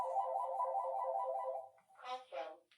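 A phone ringtone plays a steady electronic warble close by, and then a synthetic voice briefly speaks as the ring cuts off.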